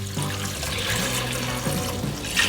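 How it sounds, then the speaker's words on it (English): Chicken broth pours into a pot for polenta, a soft continuous liquid stream with gurgling splashes, fairly quiet and close, with no talking. "And we're gonna add 4 cups of chicken broth."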